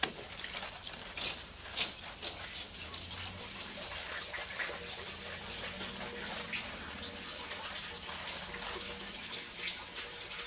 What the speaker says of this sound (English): Now I'm going to wash it up with soap and water.